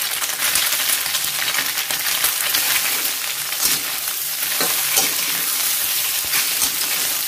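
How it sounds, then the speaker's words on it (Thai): Mushrooms stir-fried in hot oil for a Thai glass noodle dish give a loud, steady sizzle, with scraping stir strokes breaking through now and then, close and continuous with no voices. "เราใส่เห็ดให้โดนน้ำมันจะได้หอมๆ"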